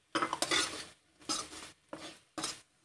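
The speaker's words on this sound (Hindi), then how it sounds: "अब हम इसे बिल्कुल अच्छे से मिक्स कर लेंगे ताकि कोट हो जाए मसाले" Spiced potatoes and parwal are stirred in a pan, giving four separate bursts of scraping and clinking from a spoon against metal, close up, with a quiet gap between each pass and no talking.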